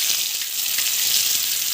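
Boiled raw banana pieces hit a hot pan for a Telugu-style banana fry, giving a steady, loud, close sizzle with a broad hiss that holds evenly throughout with no talking.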